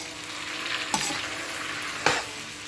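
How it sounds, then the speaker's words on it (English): Sausages and meat fry together in a pan with a constant close sizzle, broken by two sharp bursts of spatter or stirring about a second apart, with no voices. "I'm just going to fry my sausages together with my meat and every other thing for another 7 minutes"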